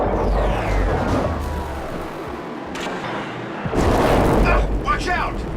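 Phaser blasts fire at vents in a Star Trek video game, sounding as a loud, dense, rumbling barrage with booming bursts and a sweeping tone. The firing carries on without a break, with game effects layered on top.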